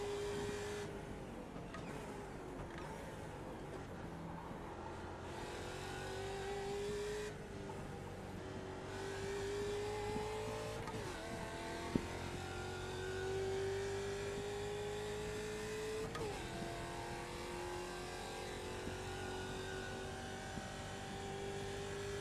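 A race car engine in the Automobilista sim racing game at Imola, a continuous loud, buzzing drone that climbs in pitch through the gears, with short dips on upshifts and braking, steady for over twenty seconds.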